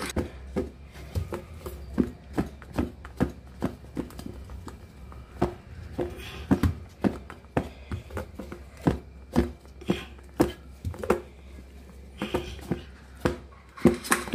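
Fish coated in masala is shaken inside a covered bowl, producing a rhythmic run of knocking and rattling thumps, about two per second, loud and close with quiet gaps between.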